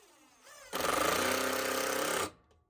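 A battery-powered drill drives a screw while a whole-house fan is being installed, a close, loud buzzing whir that runs steadily for about a second and a half, then stops.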